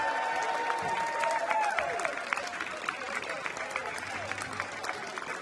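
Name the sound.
applause at Lakeside darts championship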